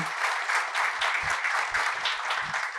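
An audience at a report launch event applauds, dense clapping that is steady and fairly close for a few seconds without pause.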